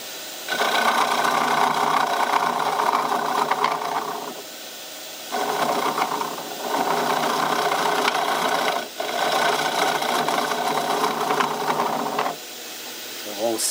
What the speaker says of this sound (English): Just give it a little rub of this now, not too, just to put a bit of detail in the base of it.